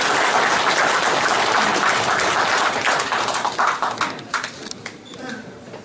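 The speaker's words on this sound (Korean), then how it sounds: "큰 박수로 환영해 주시기 바랍니다." Audience applause welcoming a candidate at a Gumi mayoral election press conference, dense sustained clapping from a crowd of reporters and supporters that thins into scattered claps near the end.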